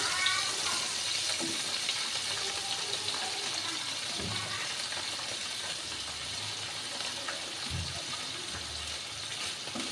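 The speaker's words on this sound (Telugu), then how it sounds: "వీటిని కూడా లైట్గా ఫ్రై చేసుకోవాలి పన్నీర్ కూడా లైట్గా ఫ్రై అయిందండి" Paneer cubes lightly frying in a pan for a cashew paneer curry, giving a steady, close sizzling hiss with occasional soft knocks of stirring.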